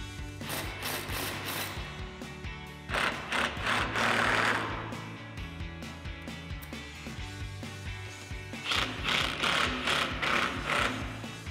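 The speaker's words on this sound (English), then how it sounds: "Now we can go ahead and tighten up the two nuts on our lower support bracket here." A wrench and socket tighten two nuts on the lower support bracket of a heavy-duty brush guard on a 2015-2020 Ford F-150, with bursts of rapid ratchet clicking and small metallic handling noises, close up and without speech.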